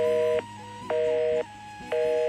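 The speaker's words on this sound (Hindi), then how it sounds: "यार उनका फ़ोन तो बिजी आ रहा है" A telephone busy signal repeats: steady tone bursts of about half a second, separated by equal silent gaps, three beeps in a clear regular rhythm, fairly loud and alone.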